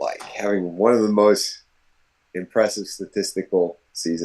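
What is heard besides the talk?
None of the usual background noises is heard.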